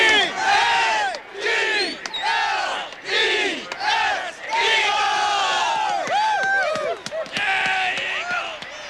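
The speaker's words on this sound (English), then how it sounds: "Let's get a little cheer." A large stadium crowd of football fans at Veterans Stadium, Philadelphia, roars and cheers in loud sustained waves, with shouts and whistles rising and falling throughout.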